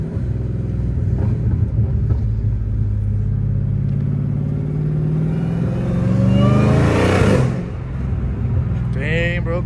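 A supercharged Dodge Challenger Hellcat Redeye revs up loudly, a close heavy rumble climbing into a rising whine and roar before dropping off, with brief talk at the end.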